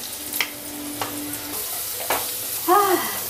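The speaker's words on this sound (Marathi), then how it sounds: "आता ती गेली आपली सगळी फोडणी" Green chili paste tempering in hot oil, a loud continuous sizzle close up with intermittent stirring scrapes and a brief tonal squeak near the end.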